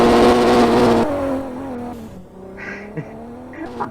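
Game car engine in GTA roleplay, steady and loud at first with harmonic drone, shifting pitch as the car drives and overtakes, then fading with brief tire squeals and thin bursts.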